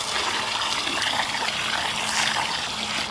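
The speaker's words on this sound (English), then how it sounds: "and then fill it full of water, collapse it in on itself" Continuous rushing of water pouring out steadily into a fire ant mound, fairly loud and close, with gurgling as it soaks into the ground.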